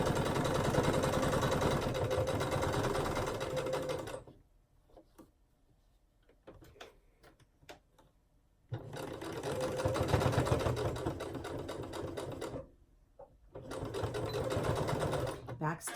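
A sewing machine back stitches the edge of a fabric mug rug, running loud and steady in two long bursts with a short third, broken by near-silent pauses with faint handling clicks.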